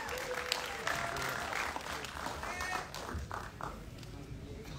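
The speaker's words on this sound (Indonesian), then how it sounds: "Sekarang tepuk tangan dong teman-teman, tamu undangan." An audience at a film gala premiere claps steadily, a dense patter of hands at moderate distance, with some voices mixed in under the applause.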